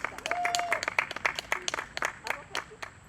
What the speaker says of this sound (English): Let's have another round of applause for Coach D.